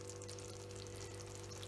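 Steady, dense sizzling of peas and vegetables frying in a pan, a continuous crackling hiss close by with no pauses and no voices.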